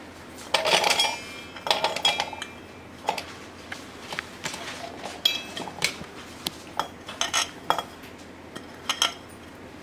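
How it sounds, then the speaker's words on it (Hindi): Raw mango, coconut and fresh coriander go into a mixer jar: a run of sharp clinks and clatters as pieces and a spoon strike the jar, close and irregular, with no talk. "इसके लिए मैंने एक मिक्सर जार ले लिया है और इसमें मैं आम, नारियल और हरा धनिया सब डाल दूंगी।"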